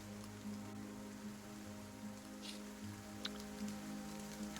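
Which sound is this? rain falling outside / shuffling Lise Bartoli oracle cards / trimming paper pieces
rain falling outside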